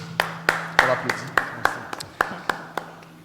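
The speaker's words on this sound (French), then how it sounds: "On l'applaudit." Sparse applause at a conference, around ten distinct hand claps spaced unevenly from a small group, fairly close and ringing in the room, with a low hum beneath.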